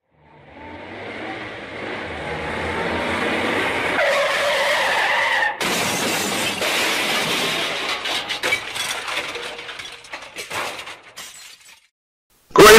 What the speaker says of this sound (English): It's my first time driving a car. That's why I crashed.